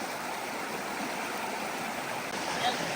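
A river flows steadily at a hiking trail crossing in Pisgah National Forest, a constant broadband rush of moving water, moderately loud and unbroken, with a faint brief sound near the end.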